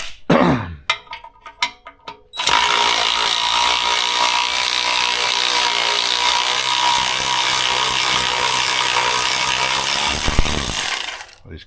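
A bolt is wound out of a Fairey overdrive unit from a 1981 Range Rover, heard as a few ratcheting clicks and then a long, loud, steady grinding, mechanical whir close to the microphone.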